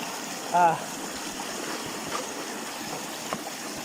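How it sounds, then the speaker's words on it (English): Water pours steadily from a small sluice setup, running like a little waterfall, giving a continuous rushing wash close by with a brief faint tonal blip near the start. "wasn't enough flow, so it's a bit of a waterfall here"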